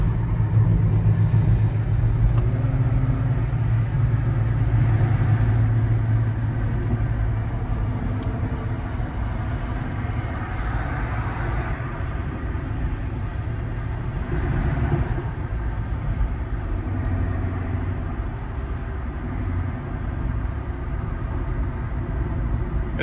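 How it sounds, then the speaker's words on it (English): A V6 Dodge Charger passes on a road amid steady low traffic rumble, its engine blending into a continuous mid-distance drone with other vehicles and some background voices. "this guy's got the V6 Charger right there"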